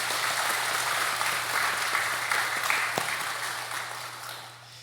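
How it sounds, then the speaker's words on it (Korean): Congregation applauding in a church during a worship service, a steady wash of clapping that holds for several seconds and slowly fades, with a low hum underneath. "하나님께 영광의 박수 올려드리겠습니다."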